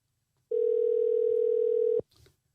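A steady telephone dial tone sounds loud and clear for about one and a half seconds while a call to a guest is placed, then cuts off abruptly, followed by a brief faint noise.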